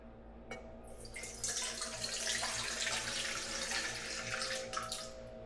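Tap water runs into a container to measure 300 grams for bread dough, a steady close splashing that starts after a brief click and continues for several seconds.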